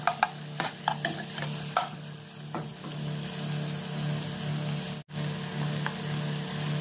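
Beef ribs and white onions fry in a pan for adobo: a constant close sizzle, with scraping stirs and clatters early on, and no talk.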